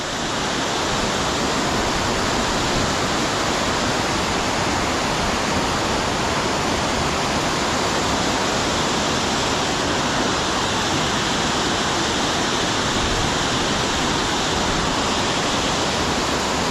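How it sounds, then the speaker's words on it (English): Hareshaw Linn waterfall pours water down an ivy-covered cliff face, producing a loud, steady, unbroken roar of rushing water that continues without pause, close by and with no talk over it. "Loads of water running down the cliff here on the right hand side through the ivy."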